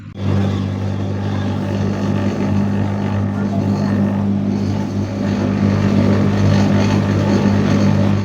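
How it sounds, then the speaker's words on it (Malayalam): A passenger boat engine drones steadily as the vessel pulls away from the Kainakary boat jetty on the backwaters, a loud, close, continuous low rumble throughout. "അങ്ങനെ കൈനഗിരി ബോട്ട് ജെട്ടിയിൽ നിന്നും ബോട്ട് പുറപ്പെട്ടിരിക്കുവാണ്."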